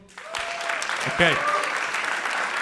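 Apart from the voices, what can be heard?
audience applause in comedy club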